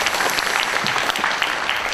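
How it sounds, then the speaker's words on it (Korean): Audience at a book launch event applauding to welcome arriving guests, a dense steady wash of many hands clapping, loud and sustained with no voice on top. "여러분 큰 박수로 맞이해주시고요."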